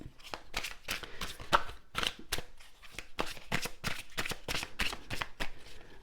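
Tarot cards being shuffled and handled, a quick run of crisp riffling flicks and slaps repeating in a steady rhythm, close and fairly quiet with no voice.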